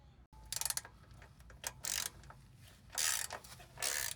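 A ratchet wrench removing the bolts from the factory side steps of a 2018 Toyota Tacoma: several quick bursts of rapid clicking, close by, separated by short quiet gaps.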